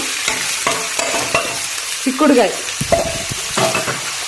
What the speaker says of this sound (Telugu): వడియం వేసి వేయించాలి